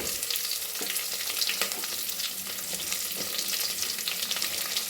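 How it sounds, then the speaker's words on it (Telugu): Onions and green chillies fry with spices in a pan, giving a steady bright crackling sizzle broken by a few soft scraping stirs, heard up close without voices. "ఇది కొద్దిసేపు మంచి పెద్ద కలర్ వచ్చేలాగా ఫ్రై చేయాలి"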